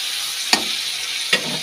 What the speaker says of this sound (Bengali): এখন দিয়েছি তেলের মধ্যে টমেটো আর কাঁচা লঙ্কা